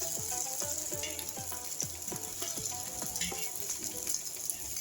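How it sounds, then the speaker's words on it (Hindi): Pieces of rice fara frying in hot mustard oil in a pan, a soft, steady sizzle with repeated light clinks of a utensil throughout. "अब हम इसमें फारे के जो पीसेस हमने काट कर रखे थे उसे फ्राई"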